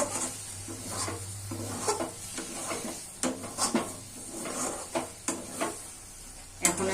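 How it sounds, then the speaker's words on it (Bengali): Fish curry in a pan being stirred after shahi garam masala goes in: a soft sizzle underneath repeated scraping strokes of a spoon against the pan, coming in an uneven rhythm, with a sharper clack near the end. "শাহি গরম মশলা দিয়ে আর একবার মিশিয়ে নেব।"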